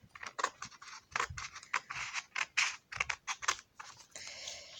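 Scissors snipping through paper to cut out name signs for horses, a quick run of close, crisp, irregular cuts with short pauses between them and no talking.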